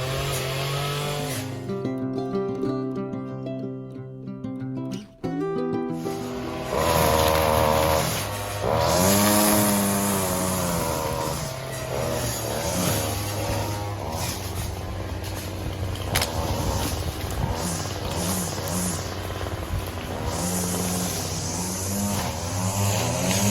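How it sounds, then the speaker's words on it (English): Rotary tiller turning over garden soil dressed with blood and bone at a volunteer community garden, a loud continuous engine drone with shifting revving pitch filling the whole stretch, close by. "just going through and just tilling it over"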